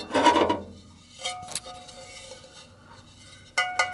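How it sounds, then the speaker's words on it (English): An aluminum platter is lifted off a Technics SL-B500 belt-drive turntable: a brief rough scrape, then a few light metallic clicks and rings, close and fairly quiet, with a short sharper clatter near the end. "go ahead and pull this platter off"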